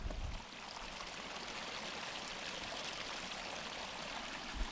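A small creek at the start of the Little Beaver Creek Trail flows and trickles steadily. The rushing water sounds close and constant, with no talking over it.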